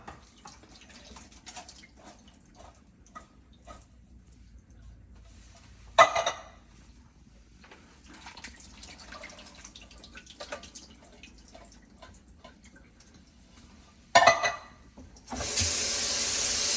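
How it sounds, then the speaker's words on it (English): Canned beans are drained and then rinsed under a kitchen tap: two short splashing bursts, then a steady stream of running water near the end. Otherwise the kitchen is quiet. "get our beans opened and get them drained and rinsed"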